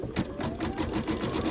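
Embroidery machine stitching the outline of a quilt block, a steady rapid mechanical chatter of needle strokes at moderate volume, with no talk over it.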